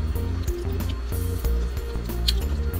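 Bone marrow being mixed into a serving of rice with a spoon gives soft, wet squishing and scraping strokes in a steady rhythm, close up, over a constant tonal background hum.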